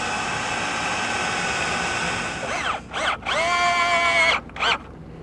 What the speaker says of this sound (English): we're going to go ahead and tack a few screws in on the other side to hold it in place